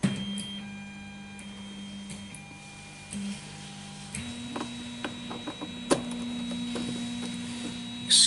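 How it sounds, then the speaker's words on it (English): A printer runs nearby with a steady whirring drone, broken by scattered ticks and clicks and a few sharper knocks; no one speaks. "excuse the noise, I've got the printer rattling away over there."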